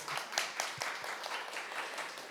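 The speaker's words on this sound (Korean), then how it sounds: "이쯤에서 박수 한번 쳐주셔야 되지 않을까요?" An audience at a gender-equality roundtable gives a brief, moderate round of clapping, fairly light and scattered rather than thunderous, lasting a couple of seconds.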